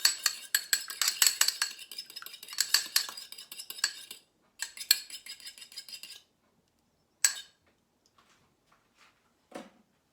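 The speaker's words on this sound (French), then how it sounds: "Je mélange le tout." A spoon mixing egg yolks, coffee and sugar in a bowl, giving rapid rhythmic clinking and scraping strokes for several seconds, then a pause and a few isolated clinks, close and clear with no talk.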